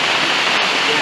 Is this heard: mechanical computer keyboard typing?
no